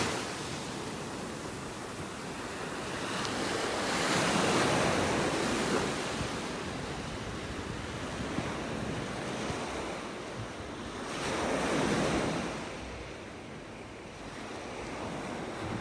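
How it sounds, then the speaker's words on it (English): Ocean waves break on the beach shore at North Naples, Florida, a continuous washing roar that swells into two louder surges, with steady wind-like hiss between them and no voices. "Love those wave sounds."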